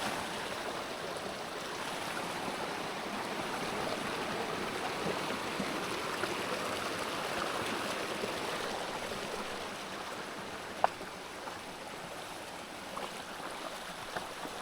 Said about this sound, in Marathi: त्याला पाण्याचा आवाज